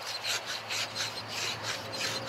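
Aluminum foil scrubbing rust from metal makes a rhythmic, gritty rasping of about five back-and-forth strokes, each a short scratchy burst, close and steady with no voices.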